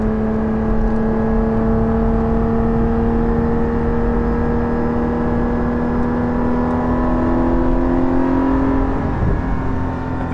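Porsche 718 GT4 engine with a Soul Performance exhaust rear section, cruising through an S-curve at steady mid revs, a loud close droning exhaust note with gently rising pitch throughout.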